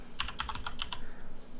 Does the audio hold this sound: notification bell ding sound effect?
no